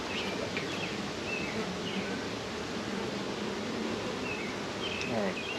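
Honey bees swarm around a swarm trap in a constant, full buzz, with single bees whizzing close by now and then and a few faint bird chirps in the distance.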